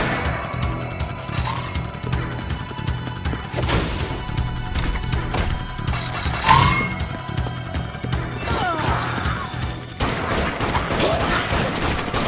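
SMG fire in the video game Dead Nation: sustained rapid shooting mixed with crashes, impacts and explosions over a continuous dense game soundtrack, loud throughout.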